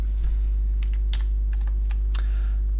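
A computer keyboard is tapped in a few short, sparse keystrokes over a steady low electrical hum, nearby and fairly quiet, with no talking.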